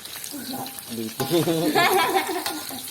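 Cassava sizzles as it fries in a pan and is stirred and turned over, a steady close crackle running under people talking.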